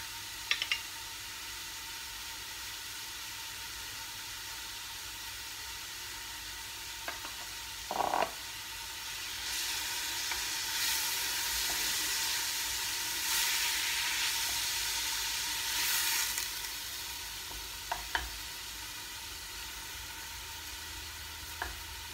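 Two chopped onions hit hot butter in a pot for Algerian couscous, a soft steady hiss of frying with a few spoon knocks, fairly quiet, swelling midway, with no talking.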